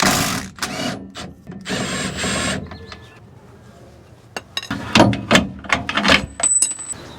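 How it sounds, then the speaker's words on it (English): A Milwaukee mid-torque impact wrench works a 17 mm lower rear shock bolt on a first-generation Toyota Tundra, firing in several short, loud hammering bursts separated by pauses and some clattering of tools. "See if we can get it out with the Milwaukee mid torque."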